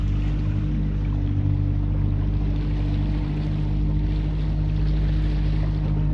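A fishing boat motor runs at low speed with a steady, close, unbroken droning hum over the water, with no voices.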